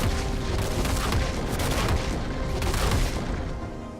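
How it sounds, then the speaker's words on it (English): Gangplank's Cannon Barrage ultimate in League of Legends fires a sustained barrage of cannon booms with no talk, a dense, loud rumble of blasts holding steady for about four seconds before easing slightly at the end. "You can use Cannon Barrage to turn the tide of battle"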